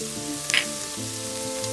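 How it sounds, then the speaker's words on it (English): Garlic sizzles on high heat alongside cooked onions in a pan for French onion soup, a steady frying hiss broken by a couple of sharp crackles, with tonal music in the background. "We're gonna let the garlic roast."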